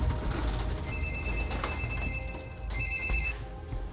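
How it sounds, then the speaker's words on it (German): Telephone ringback tone on an outgoing call, a steady electronic ring in two bursts with a short gap between, fairly loud and close over background noise, with no one speaking. "Ich kann den Arbeitgeber anrufen."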